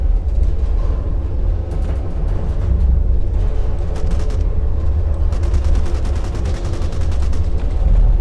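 Plasma gun blaster in the video game Extraterrestrial Raid fires in rapid, loud volleys of sharp bursts over a constant heavy rumble, with denser fire late in the stretch.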